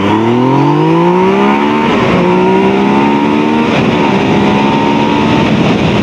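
Loud Honda CB650R motorcycle engine revving up, pitch climbing through several gear shifts as it accelerates close by.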